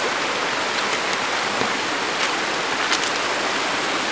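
Naruron Falls roars in a steady, dense wash of falling water, close and loud, with no voices over it.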